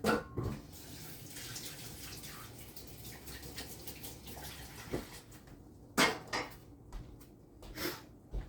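Liquid from a jar of maraschino cherries drains and splashes in a steady pour over several seconds, with a few sharper clinks and drips near the end, close and moderately loud.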